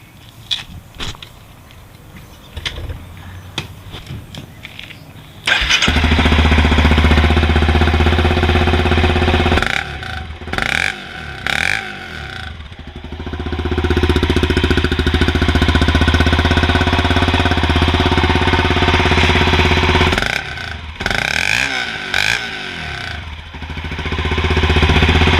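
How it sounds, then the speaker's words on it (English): A loud Honda CRF250L dirt bike engine with a gutted muffler revs up and idles with a raw, blatty exhaust, rising and falling in several throttle bursts, close by with no talk. "It's almost like the factory exhaust sound, but just louder."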